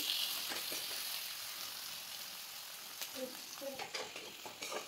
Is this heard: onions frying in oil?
yes